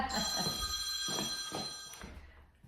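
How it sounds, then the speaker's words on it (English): A telephone bell rings indoors in a home, sounding as loud repeated bursts with steady bright tones, close and alone without any talking. "I can't, now, phone's ringing."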